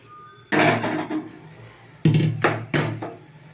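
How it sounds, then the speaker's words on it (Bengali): A bowl is washed with water in a home kitchen, giving three loud bursts of splashing and clattering against the dish with short pauses in between. There is no talk. "আমি এটা একটু বাটিটা ধুয়ে দিয়ে দিচ্ছি"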